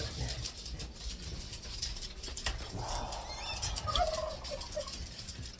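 A turkey gobbles at a family home, a rapid rattling burst of warbled calls midway through, fairly close and moderately loud over faint background rumble, with no talk.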